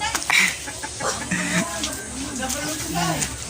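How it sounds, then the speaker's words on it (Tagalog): Chickens in a backyard farm cluck and call repeatedly at close range, mixed with people talking throughout. "May mga manok din."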